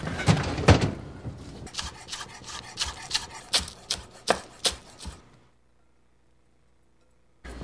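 A kitchen knife chops green onions on a board in a quick series of crisp, close knocks for about five seconds, then the chopping stops and the room goes nearly silent.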